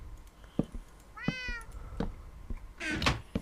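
Synthetic-sounding Minecraft cat meows rise and fall between soft thuds and clicks, with a clear meow near the middle and a louder one near the end.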